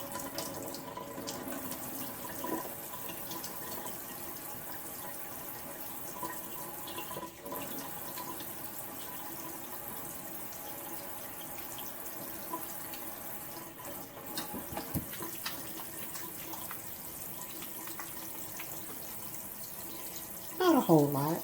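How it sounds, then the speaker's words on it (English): A kitchen tap runs steadily while a freshly cut bar of homemade soap is rinsed under it, a continuous close hiss of flowing water that swells into splashing near the end. "run it under the water and see what we get so far"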